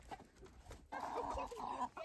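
Chickens on a homestead clucking softly, with a short murmur followed by a sustained throaty cluck, close by and fairly quiet, with no talking.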